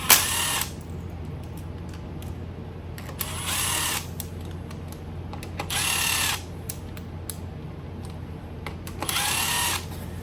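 A power tool runs in four short bursts while bolts are started during a cam swap on an LS 5.3 V8 engine. Each burst is a brief, fairly loud whir, and a low steady hum fills the gaps between them.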